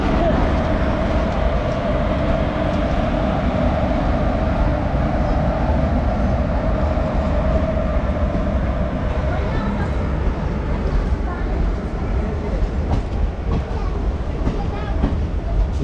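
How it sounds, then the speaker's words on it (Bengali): Shatabdi Express train departing towards Howrah, a loud continuous rumble and rolling clatter of coaches passing close by, steady throughout with faint background voices. "শতাব্দী এক্সপ্রেস তার নিজস্ব গতিতে বেরিয়ে গেল হাওড়ার দিকে।"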